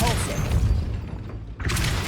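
Depulso force-push spell in the Hogwarts Legacy video game, a loud whooshing burst with a thudding mechanical impact that fades briefly before another rush of effect sound returns.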